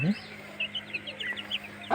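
Close chicken clucks mix with a series of high, thin cheeps from young chicks about a month and a half old, short peeps scattered across two seconds, with a hen's low call at the start and no speech.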